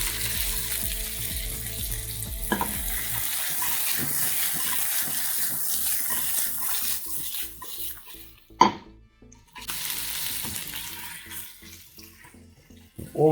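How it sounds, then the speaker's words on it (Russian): Mixed vegetables go into a hot frying pan beside pieces of pork for Thai-style fried rice, giving a loud, steady sizzle and hiss with scraping stirs and a brief sharp clatter, close by. "Убираем чуть в сторонку и выкладываем наши заранее заготовленные овощи."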